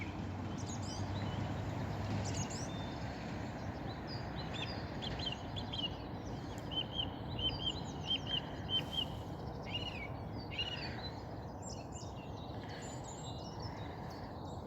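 Wheatear or lesser redpoll singing at dawn in April, a run of bright chirps and short song phrases fairly close, over a steady roar of nearby traffic.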